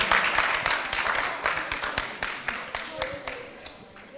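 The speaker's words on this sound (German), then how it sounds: "Applaus." Applause at a Roma youth exchange event in Ohrid, Macedonia: a run of crisp, fairly regular claps that gradually fade, with voices faintly underneath.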